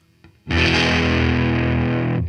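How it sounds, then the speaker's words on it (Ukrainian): After a brief quiet lead-in, an electric guitar through a heavily overdriven combo amp rings out one loud, saturated chord that sustains thick and fuzzy for nearly two seconds before cutting off. "Ось уявимо дуже підружений комбік."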